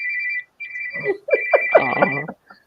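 An incoming call ringtone on a phone plays a repeating electronic tone in short bursts, loud and close, then a brief melodic jingle before cutting off.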